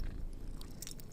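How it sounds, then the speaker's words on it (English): A cat purrs close to the microphone, a soft, low rumbling vibration that continues steadily through the short stretch with no talking. "I think you could hear him purring."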